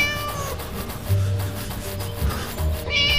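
A cat meows repeatedly in the Scary Teacher 3D video game, the calls close and clear over a steady background game soundtrack.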